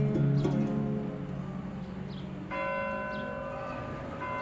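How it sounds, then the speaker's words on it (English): Church bells ring out in the Armenian quarter of Isfahan, Iran, with several clear resonant strikes whose tones hang and overlap, loud and close, with faint birdsong behind them. "in Isfahan, church bells still ring out in the Armenian quarter even today"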